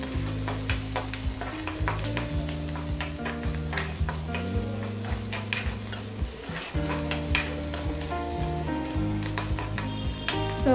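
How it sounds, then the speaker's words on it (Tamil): Onions and green chillies sautéing in a pan for a South Indian lunch, with a continuous sizzle and repeated spatula strokes against the pan, alone and close over a steady background hum. "ஸோ வதங்கிருச்சு, வெங்காயம் பச்சை மிளகாய் வந்து வதங்கிருச்சு."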